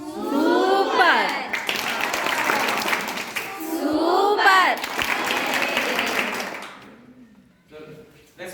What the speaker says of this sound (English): let us give loudly a different clap to the entire management